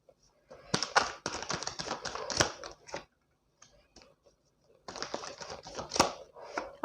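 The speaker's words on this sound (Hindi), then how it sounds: "देखिए आपके सामने मैं कार्ड्स निकाल रही हूँ।" Tarot cards are drawn and laid out in two clusters of crisp, rapid rustling and snapping, fairly close and clear, with a quiet pause in between.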